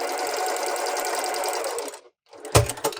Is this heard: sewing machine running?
yes